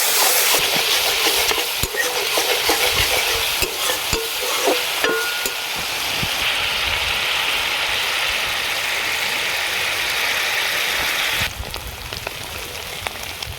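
Spice masala sizzling in oil as sour curd is stirred in for an aubergine curry, with loud continuous frying and repeated scraping stirs, then a slightly quieter stretch near the end.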